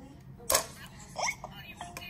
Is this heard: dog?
no